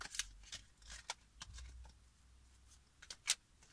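A deck of cards being handled and drawn, giving quiet crisp flicks and snaps spread across a few seconds, with one sharper card snap near the end.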